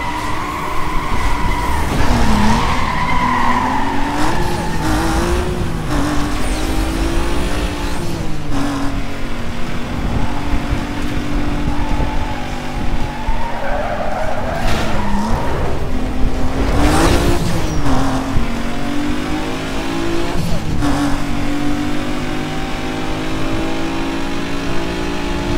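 Engine roar and repeated tire skids from a Porsche Cayman racing in Need for Speed: Most Wanted (2005), loud and continuous with screeching slides and revving throughout.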